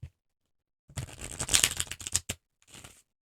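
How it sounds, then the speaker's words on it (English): A deck of playing cards being shuffled, a quick papery riffle of rapid flutters lasting about a second and a half, a short snap, then a brief softer second riffle, close and clear with no talking. "Brief pause while we shuffle."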